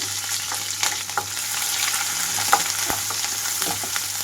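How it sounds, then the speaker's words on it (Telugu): Chopped onions and green chillies sizzle in hot oil, a bright steady frying hiss broken by occasional scraping and clinks of a spoon stirring. "ఇందులోకి కట్ చేసి పెట్టుకున్న ఉల్లిపాయలు, పచ్చిమిరపకాయలు వేస్తున్నాను"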